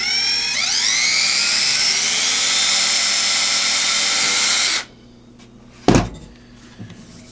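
A power drill drives screws to fit a hinge on a wooden tool cabinet, whining steadily as it spins up for nearly five seconds, then stopping, followed by a sharp knock and a faint clatter.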